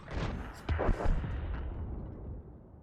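Artillery fire in the tank game World of Tanks, with a T110E3 in play: a few heavy booming blasts near the start over a constant rumbling battle bed, ringing out and fading as the shots land.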